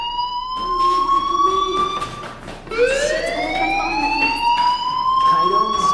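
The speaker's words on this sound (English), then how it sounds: "Hey, do you hear that fire alarm? That means you should be outside." Fire alarm in the video game Life is Strange Remastered, a loud wailing siren tone that rises and falls in long sweeps, continuing under people talking.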